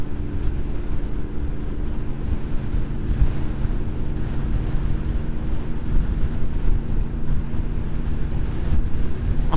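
Strong wind buffets the microphone of a VFR motorcycle rider on a commute, a loud, constant rumbling roar layered over the steady hum of the engine, with no talk.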